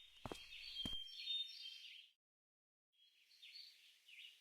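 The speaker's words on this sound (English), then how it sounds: "It's odd, though, to hear birds and see none." Birds chirp and tweet as an ambient loop in the video game To The Moon, with light high-pitched calls running steadily and briefly dropping out before resuming.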